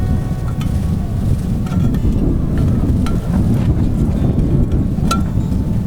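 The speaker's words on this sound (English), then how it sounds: "since we got wind coming and going, let the wind go" Outdoor wind at a tent campsite roars steadily and close against the microphone, a continuous low buffeting with a few faint clicks, and no voices.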